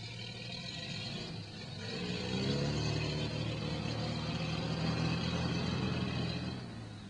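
A Daimler armoured car's engine runs as the vehicle is turned, giving a steady, close, low rumble with a faint whir that swells slightly partway through; no one speaks.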